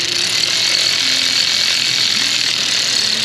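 Ratchet threading a bolt during repair work on a 2015 Nissan Pathfinder, a loud, continuous mechanical whirring and clicking held steady for a few seconds, close to the listener, with no speech.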